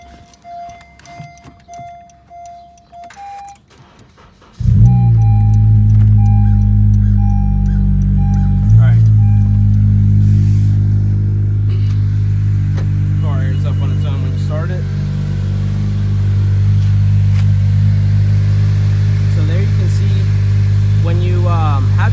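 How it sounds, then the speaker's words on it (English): A Honda Civic Si engine cranks and catches abruptly, then settles into a loud, steady idle close by, after some quiet clicks and chimes beforehand; a person talks over the running engine. "Let me turn the car on."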